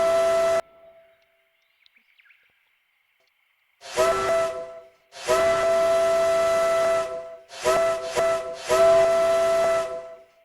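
In a video game, the steam whistle of the Strike Witch locomotive, a 0-4-0T geared engine, sounds in several hissing blasts, one long and some short, faint and far away.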